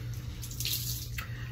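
Hot water runs steadily from a bathroom tap into a sink, a continuous close hiss and splash with small shifts in flow, no talking.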